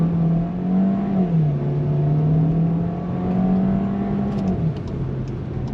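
2025 VW Jetta SEL accelerating hard at full throttle, engine drone rising and dipping through a gear change, heard loud and steady from inside the cabin with no talk.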